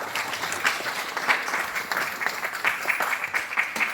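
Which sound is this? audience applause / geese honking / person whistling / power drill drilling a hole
audience applause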